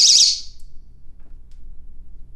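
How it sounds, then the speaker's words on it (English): A home-security window alarm goes off with a piercing, warbling electronic tone that sounds briefly at the start and then cuts out, leaving quiet room noise. "somebody comes along and tries to open my window and get into my house, what's gonna happen is the alarm's gonna go off"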